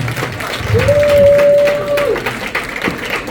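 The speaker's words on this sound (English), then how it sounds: "Give AP another round of applause." An awards-gala crowd honoring a community organization gives a short, loud round of applause with cheering, a whoop rising over the clapping midway before it thins out.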